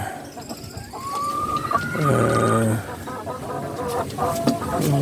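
Six-month-old Rhode Island Red chickens cluck in a close, busy flock, with a steady murmur of calls and one louder drawn-out squawk in the middle.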